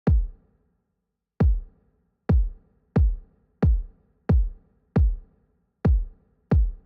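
Punchy kick drums from a hip-hop beat thump alone in a steady pattern, about nine booming hits with deep decaying tails and silence between them.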